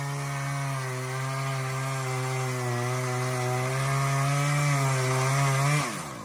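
A brand new chainsaw cutting into a tree runs at a loud, steady high-revving buzz, pitch rising slightly under load, then cuts off abruptly near the end; no talking.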